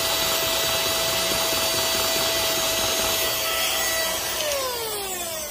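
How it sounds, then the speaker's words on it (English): A portable vacuum cleaner blows out a DF64 coffee grinder fitted with SSP MP burrs. Its loud, steady motor whine holds for several seconds, then its pitch sinks as the motor slows near the end. "portable vacuum cleaner"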